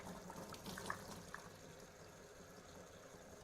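Tap water runs faintly into a sink while developed film is rinsed of fixer, a soft continuous trickle with light splashes and drips and no talking.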